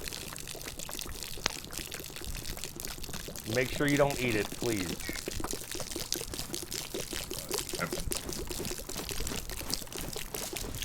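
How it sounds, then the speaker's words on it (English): A continuous pouring-water sound glitch from a canteen in DayZ trickles steadily in the background, while a voice talks over it briefly. "this water sound's gotta fucking go"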